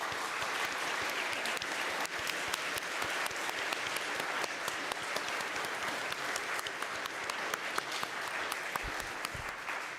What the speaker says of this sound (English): And now let's give our lay ministers a round of applause.